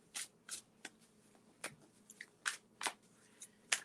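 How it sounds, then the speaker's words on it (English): Tarot cards shuffled by hand on a table, a series of quick crisp riffling bursts at irregular intervals, close and fairly quiet with no talking. "if you hear that noise, I'm shuffling the cards on the table"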